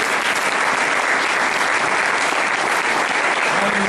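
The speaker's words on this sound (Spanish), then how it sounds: "Dale un aplauso al Señor." Congregation applause at a Spanish-language church service, a dense, steady wash of many hands clapping that fills the whole stretch without pause.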